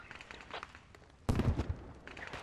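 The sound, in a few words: explosions in the video game Squad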